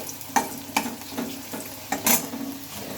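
Fried bottle gourd pushed aside in a hot pan with a spatula, giving several distinct scraping stirs over a steady, close sizzle of frying.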